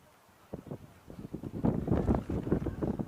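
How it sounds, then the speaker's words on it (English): Blustery wind, gusting to about 50 mph on a rugby ground, buffeting the microphone in low, rumbling gusts that build and flutter over a few seconds. "Wind picks up just as she tries to kick it."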